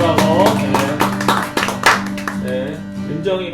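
A church congregation at a young adults' worship service claps in rhythmic bursts alongside a voice speaking over a microphone, the claps close and mixed with talk and some reverberant tones.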